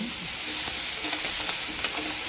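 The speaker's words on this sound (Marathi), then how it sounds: "कोथिंबीरला पण छान परतून घ्यायचं" Coriander leaves sautéing in a pan for a dry chickpea-greens bhaji, giving a steady close sizzle with soft stirring scrapes throughout.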